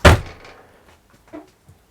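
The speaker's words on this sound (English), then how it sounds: "you close the old caravan door" An old caravan door in a converted silo tiny home swings shut with one sharp close, followed by a couple of faint clicks and small settling knocks in quiet surroundings.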